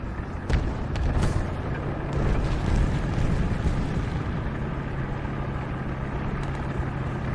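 Low, steady engine rumble of an opponent T-44 tank in the War Thunder video game, heard at a distance behind a rock, continuous and fairly faint with a few brief sharper knocks near the start.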